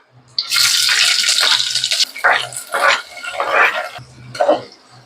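Onions hit hot oil in a pan for chicken curry with a loud, steady sizzle that swells for over a second, then breaks into several shorter frying bursts as they are stirred, close by.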